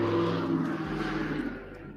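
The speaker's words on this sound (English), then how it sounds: "It's a loud ass car" A loud car drives past outside, a steady engine roar that fades slightly as it moves away, heard alone over about two seconds.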